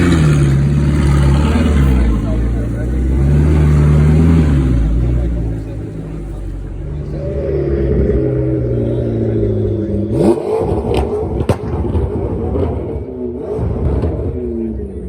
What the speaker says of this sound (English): As you hear this Audi R8 pulling up, there's gonna be another McLaren that's gonna pass by, and that's a V8 as well